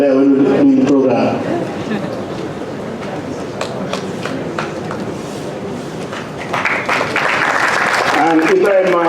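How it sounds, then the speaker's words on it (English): An audience at a TAF Africa anniversary event claps in a sustained burst of applause, loud and close, with people talking over it throughout. "See, they were clapping."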